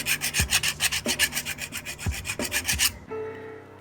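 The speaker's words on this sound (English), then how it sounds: "File down those sharp edges." The sharp edges of new Harbor Freight pliers jaws are filed down in quick rhythmic back-and-forth rasping strokes, close and fairly loud, about a dozen strokes in three seconds before a faint ringing stop.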